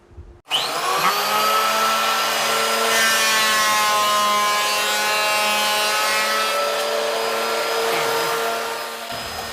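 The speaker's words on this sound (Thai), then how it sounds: "ยัดเข้าเครื่องรีดอย่างเดียวเลยนะครับ" A loud, steady machine roar with a high whine starts abruptly and holds for several seconds as rough lumber feeds through a thickness planer, then trails off.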